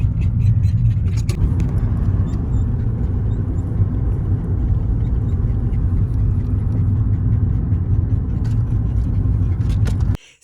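Steady low road rumble and engine drone from inside a moving car, heard from a cramped back seat among luggage and excited dogs, continuous and fairly loud throughout with no talk.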